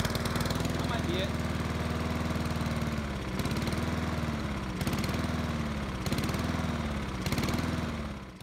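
Honda Quadra Cut overhead-cam lawn mower engine running steadily and close, its rough idle surging and dipping in regular waves, with a person talking over it.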